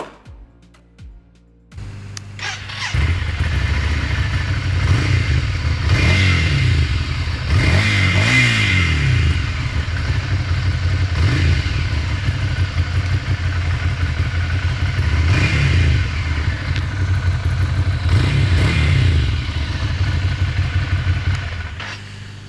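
A Ducati Scrambler 1100 motorcycle engine starts up, then idles with a throbbing, lumpy beat punctuated by several sharp throttle blips and revs that rise and fall at close range.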